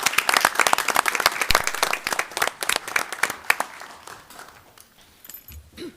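An audience at a village board of trustees meeting claps for a Boy Scout troop color guard, a loud crowded burst of many hands that thins out and fades to near silence over the final seconds.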